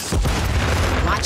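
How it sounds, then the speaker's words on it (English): A flash grenade detonates in Warzone 3 gameplay: one heavy, booming blast that swells into a dense, loud roar and rumble lasting over a second, with no speech. "Throwing flash grenade."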